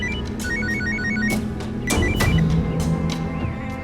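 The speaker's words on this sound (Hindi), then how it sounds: "मेरा फोन बज रहा है।" A phone rings with a repeating electronic melody of short beeping tones, fairly close, over a low background hum.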